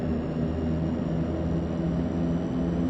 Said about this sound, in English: we have the always enjoyable taxi in the Twin Otter